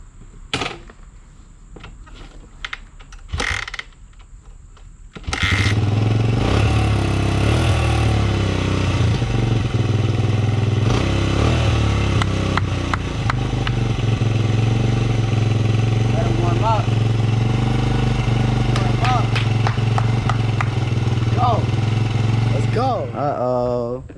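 Dirtbike engine, just after a carburetor cleaning, fires up around five seconds in following a few clicks and clunks, then runs loudly and steadily with a rough idle and occasional revs, with voices talking over it throughout.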